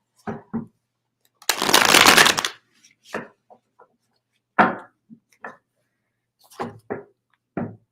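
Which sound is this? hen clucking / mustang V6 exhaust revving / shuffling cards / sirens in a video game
shuffling cards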